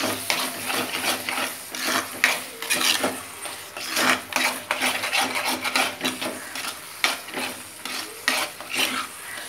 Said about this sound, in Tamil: இப்போ எல்லாம் நல்லா ஃப்ரை ஆகணும்.